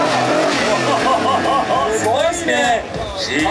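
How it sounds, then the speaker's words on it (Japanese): A modified Toyota Hilux engine revs loudly nearby, its pitch sweeping up and down, while voices and crowd chatter carry on over it at the Stancenation Tokyo car show. "ちょっとエンジン空ぶかししてくんないかな"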